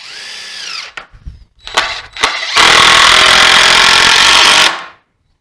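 A drill drives a screw into a wooden bench board, with a few clicks and short trigger blips before one loud sustained two-second whir that stops abruptly, close up.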